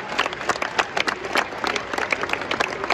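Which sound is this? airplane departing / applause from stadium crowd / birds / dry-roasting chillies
applause from stadium crowd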